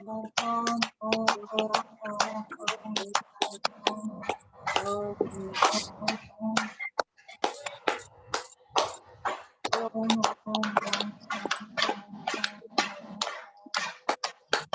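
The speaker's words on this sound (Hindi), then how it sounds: "चलिए ताली बजाइए" A group claps in rhythm during an International Yoga Day session: a steady run of sharp, close claps, mixed with chanting and spoken voices.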